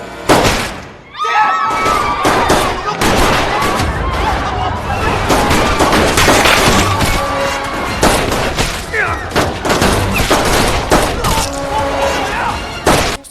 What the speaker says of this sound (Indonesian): Aksi baku tembak di antara kedua belah pihak pun tak bisa terelakkan lagi